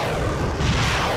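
An atomic bomb explosion sounds as a deep, heavy boom with a sustained rolling rumble that stays loud and dense for the whole short stretch.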